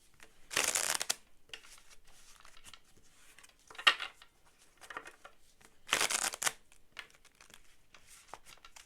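A tarot deck being shuffled up close, two loud, dense bursts of riffling separated by quieter card slides and taps, with a failed shuffle where cards spill or stick.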